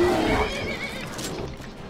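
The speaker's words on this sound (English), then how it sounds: "My immortal horse." A horse in the video game Skyrim gives a clear, loud neigh at the start that trails off into a softer whinny, with faint hoof clops beneath.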